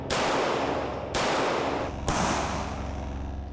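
Three loud 9mm gunshots fired at a Bullet Blocker backpack at a shooting range, spaced about a second apart, each sharp crack trailing into a long echoing decay.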